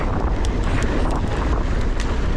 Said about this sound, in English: Oh, the wind is horrendous.